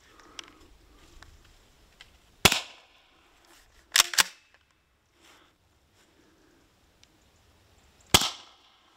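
An air gun fires 0.68 caliber aluminium balls, three sharp loud cracks spaced a few seconds apart, with a brief mechanical click between two of them and quiet handling noise between shots.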